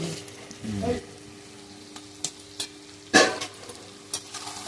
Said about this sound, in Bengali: একটু নাড়িয়ে নেব বেশ খানিক্ষণ কষাতে হবে